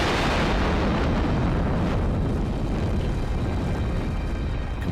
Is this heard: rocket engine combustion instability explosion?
yes